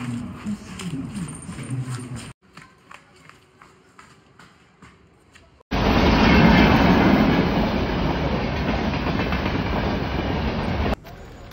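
A train at a railway station rumbles in loudly and steadily for several seconds, after quieter station ambience with scattered knocks, then cuts off abruptly.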